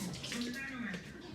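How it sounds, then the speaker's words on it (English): Tap water runs steadily into a sink while a small garlic chopper is rinsed under it, a close, continuous splashing flow with a voice speaking over part of it. "Wash that off real quick."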